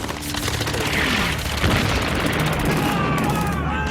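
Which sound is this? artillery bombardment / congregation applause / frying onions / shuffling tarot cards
artillery bombardment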